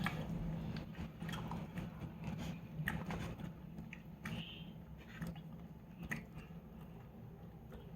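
Leftover macaroni eaten with a fork, with soft, wet chewing and small squishy bites heard close and quiet over a steady low background hum, no talking.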